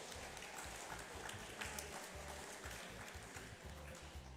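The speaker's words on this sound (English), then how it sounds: "why not give the North Malaita students another round of applause" Audience applause at a Malaita Day cultural performance in Suva, Fiji, honoring North Malaita students; a steady, moderately distant wash of clapping with a low rumble underneath, continuous throughout.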